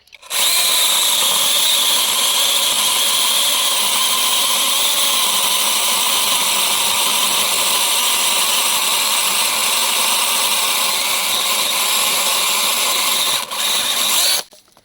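A battery chainsaw cuts through wood with a loud, sustained high-pitched whine that holds steady for about fourteen seconds before a brief dip and a stop.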